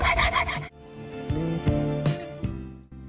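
A saw cuts a round slice from a leftover bamboo cane for planter feet, a rasping stroke followed by several short, uneven scraping pushes and pulls, close and alone.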